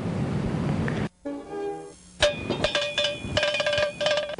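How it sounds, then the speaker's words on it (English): A cowbell-like metallic clanging in a film soundtrack, with sharp repeated strikes and ringing tones over a busy mix of other effects. "So as class begins with that cowbell or whatever that sound was"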